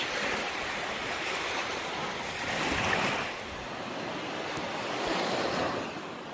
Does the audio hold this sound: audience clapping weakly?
no